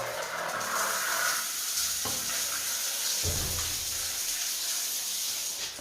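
A household shower runs with a steady hissing spray, close and continuous, broken by a couple of brief knocks and splashes.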